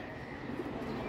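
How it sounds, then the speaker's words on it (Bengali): A female Babu breed pigeon coos softly in a short, faint murmur against a quiet background. "বাবু কবুতর মাদি, এটা মাদি একটা কবুতর"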